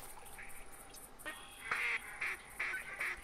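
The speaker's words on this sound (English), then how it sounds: "Yep, we got a whole flock of ducks coming in." Ducks in the hunting game theHunter 2017 quack repeatedly as a flock flies in toward a blind, with short nasal calls early on and louder, bunched bursts of quacking in the second half.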